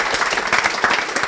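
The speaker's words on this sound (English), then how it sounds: "A round of applause." An audience applauds after a startup talk in Edinburgh, a thick, sustained round of many people clapping at once, fairly close and loud.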